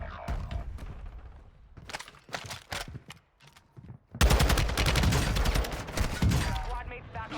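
Video game gunfight with sniper fire, shooter-style: sparse sharp single shots early, then a loud, dense barrage of rapid gunfire bursting in midway and continuing steadily to the end.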